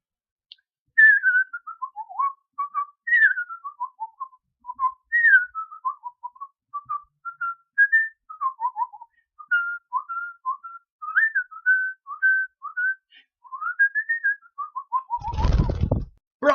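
A person whistles a long, wandering melody of gliding, bird-like notes in short phrases, clear and close, with a brief thump of handling noise near the end.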